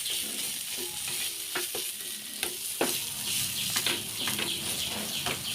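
A frying mixture for paneer puriya, seasoned with salt, chili powder and turmeric powder, sizzles steadily in a pan while a utensil stirs it with repeated close scraping strokes.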